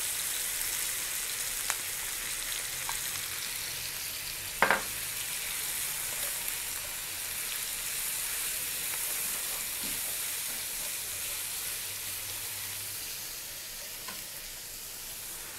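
Bell peppers and carrot fry in a pan for a stuffing dish, a loud, steady sizzle and hiss running throughout with a sharp clink of a utensil partway through.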